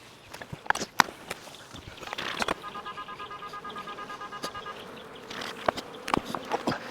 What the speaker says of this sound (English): stand the bees up, and they are not happy